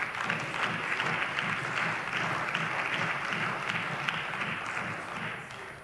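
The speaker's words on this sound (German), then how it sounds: "Applaus" Members of the North Rhine-Westphalia state parliament, during a 2017 budget debate, give a steady wash of applause, a dense even patter of many hands that fades slightly toward the end.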